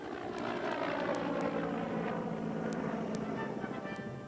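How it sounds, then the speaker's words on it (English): A CH-53E helicopter heard from a distance as a steady, faint, continuous drone with a low rumble, no voices over it. "It is light enough to be rapidly deployed from the air, slung under the belly of a CH-53E helicopter."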